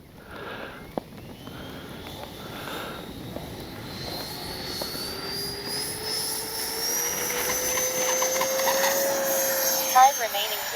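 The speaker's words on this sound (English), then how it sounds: "let's try to be a little more gradual on this takeoff this time" A Freewing 90mm F-4 Phantom II radio-controlled jet taking off, its ducted-fan turbine whine rising steadily in pitch over a broad, constant roar that swells slightly toward the end.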